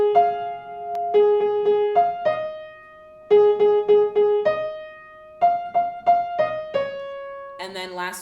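Piano playing a simple repeated melody, clear sustained notes in short phrases with brief pauses between them, close and solo, ending in a quick run of higher notes.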